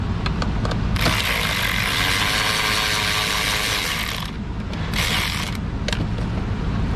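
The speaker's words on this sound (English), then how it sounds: "While I'm doing this cluster comes out. I believe it's just 4 screws." A power driver whirs loudly for a few seconds, then briefly again, while screws are taken out of a car dashboard instrument cluster, with small ratcheting clicks and creaks nearby.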